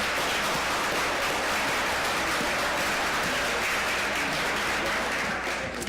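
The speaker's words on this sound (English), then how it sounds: "How about a round of applause for all these people that are making our city look better?" A round of applause from attendees at a city council meeting, dense and continuous throughout at moderate level, with no voices standing out.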